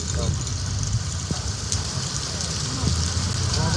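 Steady monsoon rain in the mountains hisses evenly throughout, with a faint low engine rumble beneath and a few brief knocks.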